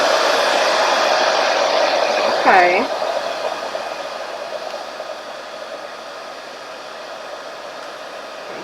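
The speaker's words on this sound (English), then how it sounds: "But let's turn it on the first setting." A nail dust collector fan runs steadily on its first setting, a broad airy whoosh that holds constant close by, with a brief spoken word partway through.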